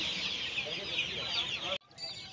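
Chicks of Australian chicken breed chirp and cluck densely at a busy poultry market stall, a bright chorus that cuts off abruptly near the end.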